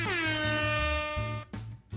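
A loud air horn blares in a long sustained blast lasting over a second, then gives two short bursts after brief gaps.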